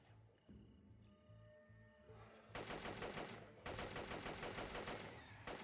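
Gunfire in the zombie shooter game Zomborg comes in rapid automatic bursts, two sustained volleys after a quieter stretch of game ambience, faint and unaccompanied by talk.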